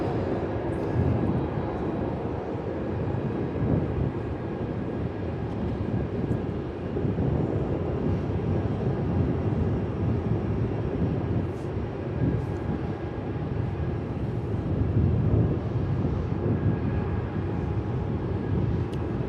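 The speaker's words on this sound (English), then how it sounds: "Nice looking aircraft, the 777 freighter." Boeing 777 freighter at Melbourne Airport, a steady broadband jet roar that holds level and fairly loud for the whole stretch, with a faint wind rumble underneath and no talk.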